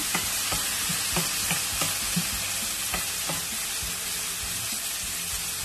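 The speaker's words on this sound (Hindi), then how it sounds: "एक 2 मिनट आपको अच्छी तरीके से इसको सौटे करना है ऑयल के साथ" Zucchini with cumin and chopped tomato sautéing in hot oil, a continuous close sizzle with repeated scraping stirs of a spoon in the pan.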